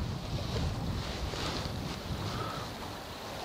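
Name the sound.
strong wind while carp fishing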